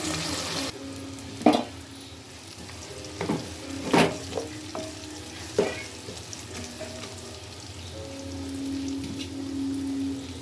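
Onions and green chillies frying in a pan, a steady sizzle with a few sharp scraping stirs of a spoon, no talk.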